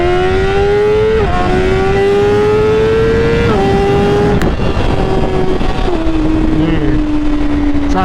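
A BMW S1000RR motorcycle engine revs hard and loud, its pitch climbing and then repeatedly dropping back as traction control cuts power. The roar is continuous and close throughout.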